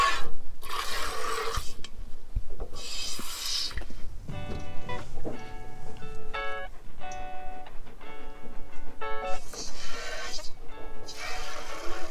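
Goats named Eddie and Tilly bleating in repeated, fairly loud calls, with harmonic cries coming in bursts amid background rustling and scraping.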